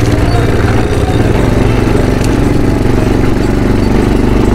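An ATV quad bike engine runs near the Giza pyramids, a loud, constant, buzzing, chugging drone close to the microphone with wind noise and no talking.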